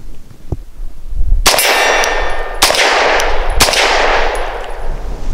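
Three loud, sharp pistol shots from a Langdon Tactical 92 Elite LTT firing Liberty Civil Trainer 65 grain ammunition, each a bright crack with a ringing tail, spaced about a second apart after a brief quiet lead-in.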